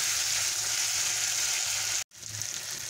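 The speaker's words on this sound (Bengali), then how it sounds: "আলুটাকে আমি একটু সেদ্ধ করে নেব, ভেজে নেব" Potatoes fry in a pan for a vegetarian jackfruit curry, giving a steady close sizzle that cuts out abruptly for a split second and then resumes.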